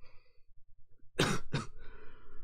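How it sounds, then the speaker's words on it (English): Two sharp, close coughs in quick succession from a sick man, rough and throaty, over a faint rhythmic background. "Man, I apologize for the coughing"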